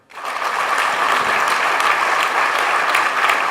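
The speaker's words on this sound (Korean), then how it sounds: "큰 박수 부탁드리겠습니다" A large crowd at a political party national committee meeting bursts into sustained applause, dense steady clapping that starts abruptly and holds loud and even throughout, with no talking over it.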